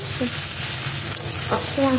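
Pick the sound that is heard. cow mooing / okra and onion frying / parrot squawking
okra and onion frying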